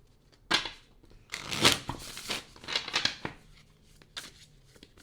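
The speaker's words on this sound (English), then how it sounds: "10 years later, they're telling me to shuffle again." A deck of cards is shuffled close by in several quick riffling bursts, crisp papery flutters separated by short pauses, quiet and alone.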